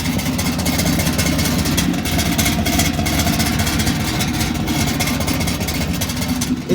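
Loud, rough truck exhaust with an electric cutout open, rumbling at idle with a rattling, lumpy note, steady and close, no voices.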